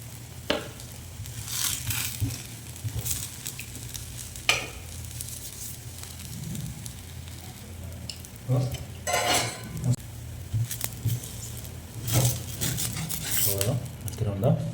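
Bottle gourd dosa batter sizzles on a hot pan with a soft continuous frying hiss, broken by occasional clinks and scrapes of a utensil, while someone talks.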